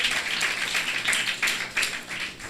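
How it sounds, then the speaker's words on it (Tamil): Applause in a church during a Resurrection Sunday sermon, with a congregation clapping in dense bursts that swell and fade over a few seconds, no voices over it. "ஒரு கைத்தட்டு கொடுங்க உயிரோடு இருக்கிற தேவனுக்கு"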